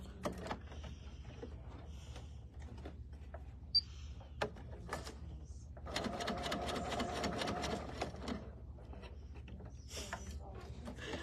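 A serger sewing machine runs in short bursts of rapid mechanical stitching, starting and stopping, with a longer steady run in the middle, fairly close and moderately quiet.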